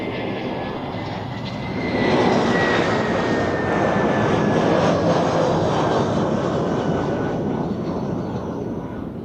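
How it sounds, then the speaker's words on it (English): A passenger jet lands at Zurich Airport, its engines a loud, broad roar that swells after a couple of seconds, holds steady, then eases slightly, heard from fairly close with no talking. "Touchdown, spoilers up and welcome home."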